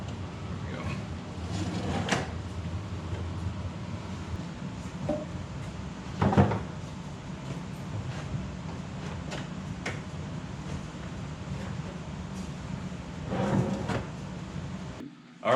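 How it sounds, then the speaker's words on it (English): Cabinet drawer being set onto its rails and pushed in during a kitchen cabinet installation, a few scattered knocks and sliding clunks over a low room hum, moderately near. "we're ready to put the drawers in"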